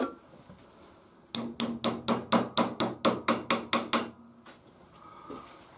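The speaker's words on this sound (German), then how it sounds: "mit dem kleinen Hammer schlagen, dass man nicht so viel Kraft auf die Welle ausübt" Eleven sharp, evenly spaced metal hammer blows struck with a small hammer against a larger hammer held beneath the shaft of a Piaggio Ciao moped during a workshop repair, loud and close, with quiet room noise before and after.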